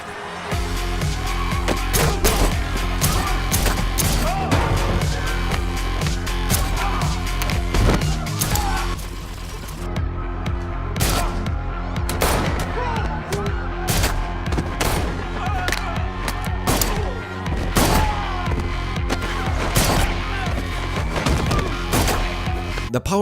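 Rapid bursts of gunfire crack through a John Wick gun-fu fight scene, loud repeated shots and booms in fast, irregular volleys layered over a driving score.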